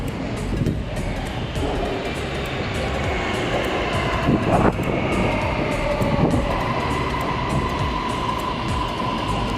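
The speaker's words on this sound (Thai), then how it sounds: "ตอนนี้รถไฟฟ้ามาถึงพอดีครับ" A Bangkok MRT Blue Line metro train pulls into an underground station platform, a loud, steady rumble and rush of wheels and air with faint squeals, no voices.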